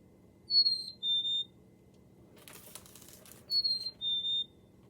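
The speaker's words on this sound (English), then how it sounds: "This one actually, I believe, says the sound in its name. I think it says chickadee-dee-dee." Black-capped chickadee calls, two pairs of thin whistled notes with a faint burst of chatter between them, clear against a low background hum.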